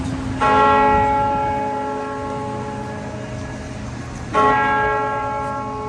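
A church bell in London tolls twice, each loud strike ringing out with a long, slowly fading hum between them.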